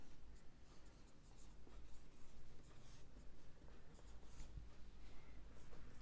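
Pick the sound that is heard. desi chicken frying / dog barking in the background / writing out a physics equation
writing out a physics equation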